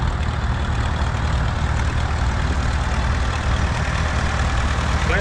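A 1960 Case 630 diesel tractor idles at a parade of power, a steady, loud low rumble with a constant mechanical drone and no breaks, no voices over it.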